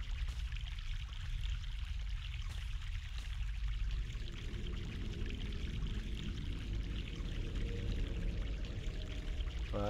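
Water pours steadily in The Longest Journey adventure game, a continuous rushing flow that shifts in tone partway through as the stream is redirected, heard alone without talk.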